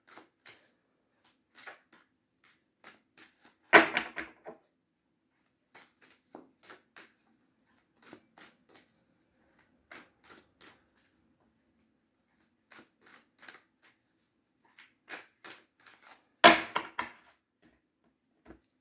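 Tarot cards being shuffled and cut by hand, with two loud, quick riffling bursts about thirteen seconds apart and soft taps and card handling in between, close up with no talking.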